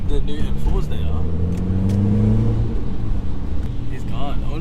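A Skoda Octavia vRS, reportedly with failing brakes, pulls hard with a rising engine note heard from inside the cabin, while people talk over the acceleration.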